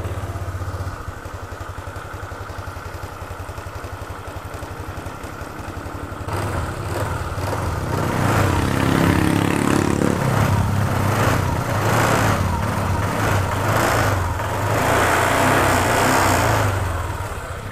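A Honda Vario 150 scooter with a ported engine starts and runs at a steady idle, growing louder and rougher partway through with a constant low exhaust rumble.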